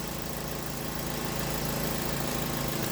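A Mazda 3 with a 2-liter engine and a faulty mass airflow sensor idles at about 820 RPM, a steady, quiet low hum with a faint even vibration and no voices.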